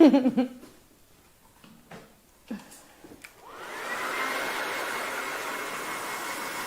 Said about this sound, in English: ever want to speed up your drying process? Use your dryer.